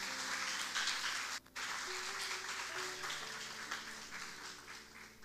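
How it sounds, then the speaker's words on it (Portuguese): Soft, fairly distant clapping from a church congregation giving praise to Jesus during a celebration service, a steady patter over sustained instrumental tones, with a brief dip near the start. "Posso ouvir uma salva de palmas ao Senhor Jesus?"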